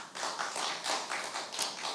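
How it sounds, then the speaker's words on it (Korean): Audience applause at an academic conference in Gyeonggi, Korea, greeting a provincial vice-governor: a dense, steady patter of many hands clapping at once, fairly close and sustained, with no talk over it. "여러분 큰 박수로 어, 부지사님께 부탁드립니다"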